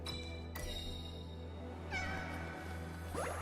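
A cat companion in the video game Wuthering Waves meows a few times, short rising cries over a steady low game hum with soft background effects.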